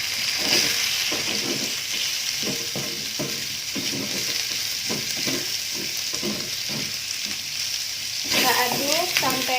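Diced chicken fillet sizzles loudly in a hot pan while a utensil stirs and scrapes it in repeated strokes, mixing it with spice paste.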